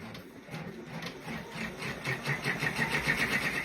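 An embroidery machine stitches a trace outline into fabric, a steady mechanical whir with rapid, regular needle pulses that grow louder toward the end, close by and alone.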